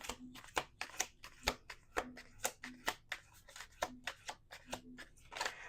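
Cards being riffled and bridged in quick repeated bursts, crisp flapping shuffles close by with short pauses between them.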